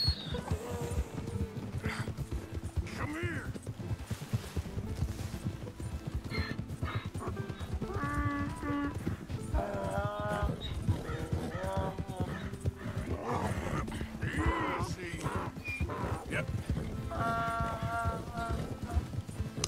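Zebra galloping with rapid clip-clop hoofbeats and repeated whinnying calls in the video game Red Dead Redemption 2, ongoing through the whole stretch under game noise, with someone talking over it.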